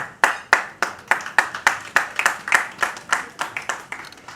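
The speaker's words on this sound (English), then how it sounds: "I think you just clapped for yourself." Audience at a book launch and exhibition clapping in unison, about fifteen sharp, evenly spaced claps in a steady rhythmic beat, close and crisp with no talk.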